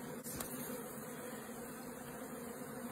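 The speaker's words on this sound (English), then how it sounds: "these small ones are bees, worker bees. Mm-hmm. But the big ones are drones" A faint, steady drone of worker bees and larger drones buzzing together inside an open beehive, continuous and even with no voices.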